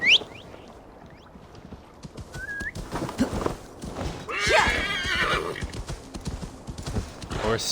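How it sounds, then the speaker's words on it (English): A horse in Assassin's Creed Valhalla on Xbox Series X whinnies with a high shrill call, then hooves clop in scattered steps with a louder burst of neighing and snorting midway, over quiet game ambience. "Horse was on the boat somehow."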